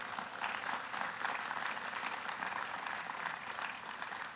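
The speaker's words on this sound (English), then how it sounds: "we want to give them a round of applause" Applause from a large audience at the 2018 Morehouse College commencement, a dense, steady clapping wash lasting several seconds, distant and moderately quiet, with no voices over it.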